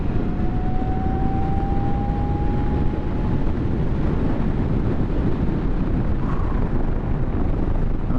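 A 2022 Zero FXE electric motorcycle runs at full throttle, its steady rising motor whine held over loud, constant wind rush throughout.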